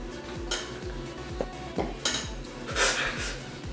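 Flour being scooped and poured from measuring cups into a mixing bowl while baking a Minecraft-style cake, with repeated soft clinks and scrapes of cups against the bowl at a steady rhythm, close and moderately loud, over a low background hum.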